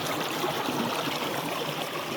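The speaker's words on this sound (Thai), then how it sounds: "เสียงน้ำตกแล้วนี่ ไหลลงมาจากบนภูเขาเพิ่งจ้ะ" A mountain waterfall pours down in a steady, even rush of flowing water, continuous and moderately loud with no voices over it, heard in a forest while out mushroom foraging.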